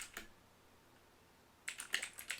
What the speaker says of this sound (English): when you're in the middle of typing out a sentence